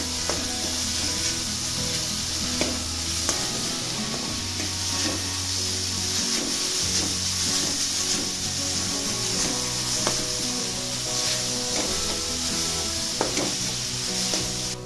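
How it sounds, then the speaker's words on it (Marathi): Grated raw mango sizzles and fries in hot ghee over high heat, with steady close stirring and scraping of the spoon against the pan throughout. "त्यामध्ये आता आंबा घालायचा आहे किसलेला आणि परतून घ्यायचा आता गॅस मोठाच करायचा आहे परत परतत राहायचं आहे"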